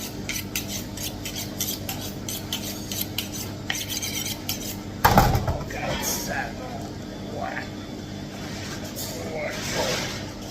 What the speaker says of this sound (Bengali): আমি এখন আমার সালমন মাছটা আস্তটাকে কেটে ফেলবো।